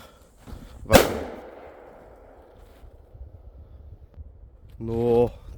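A single sharp bang from a Trueno Detonante firecracker cracks out outdoors near a tree and echoes away, followed moments later by a voice.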